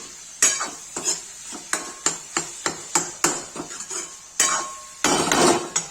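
A spatula scrapes and knocks against a pan as tinda sabzi is stirred and flipped: sharp, rhythmic metallic taps roughly every half second over a faint sizzle, ending in a longer scraping burst.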